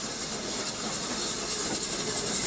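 A train on the Hawkhurst branch railway, one of the last trains on that line, gives a continuous rumbling, hissing roar that stays loud and even throughout, with no voices.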